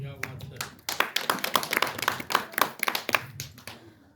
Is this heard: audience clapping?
yes